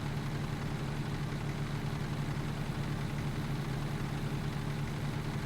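An American truck engine in American Truck Simulator idles with a steady, deep rumble that holds constant throughout, with no voices.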